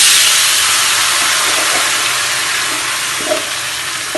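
Mango pieces tipped into hot oil with mustard seeds and asafoetida for a mango pickle, giving a loud, steady, bright sizzle that eases slightly over a few seconds.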